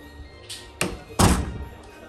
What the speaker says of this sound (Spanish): Pues cierro la puerta.